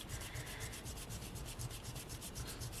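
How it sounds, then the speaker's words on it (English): A soft eraser rubs back and forth over paper to lift off tape runner adhesive, making a steady, rapid, rhythmic scrubbing that is close but quiet and continues throughout without pause. "I'm just using a soft eraser"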